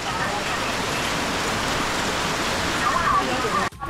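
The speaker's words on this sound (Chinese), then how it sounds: "好大雨啊！" Heavy rain pours down along a mountain hiking trail at Nan'ao, Shenzhen, as a dense, continuous roar close around the listener that drops off abruptly just before the end.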